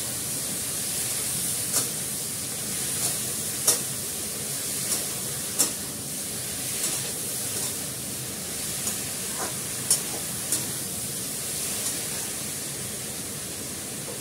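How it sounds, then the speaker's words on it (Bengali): Green chilies fry in a covered pan with a steady, even hiss and scattered small pops and crackles, close and moderately loud, with no voices. "ভেজে ভাজা হবে, ঢাকা দিয়ে দিলাম।"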